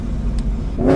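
Vortech-supercharged V8 in a BMW M3 revs briefly, a steady close engine rumble that swells into a louder rising rev at the end.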